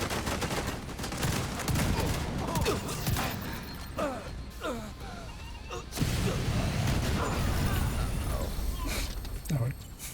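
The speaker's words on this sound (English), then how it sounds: "We can just blind fire." Blind-fire gunshots in a video game crackle as a continuous barrage of sharp reports and impacts, steady and loud, with a voice talking over the shooting.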